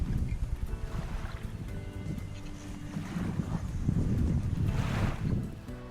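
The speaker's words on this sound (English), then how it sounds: "Can you hear that wind ripping?" Strong wind roars steadily across a small fishing boat on open water near shore, with broad buffeting gusts rising toward the end and no talk.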